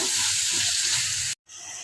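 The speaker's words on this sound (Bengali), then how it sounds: "টমেটোগুলো ভালোভাবে নাড়াচাড়া দিয়ে নেব" Tomatoes and onions sizzle steadily in a hot pan while being stirred for a spicy eel fish curry, a continuous close frying hiss that cuts out abruptly for a moment near the end before resuming.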